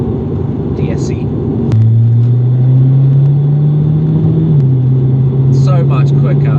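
Jaguar XE diesel in dynamic mode with traction control half off, a steady low engine drone that steps up in pitch as it pulls hard, loud and close, with a brief voice near the start and end.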